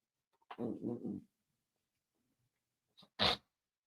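A short vocal burst followed by a sharp, explosive sneeze at close range, with quiet gaps around it.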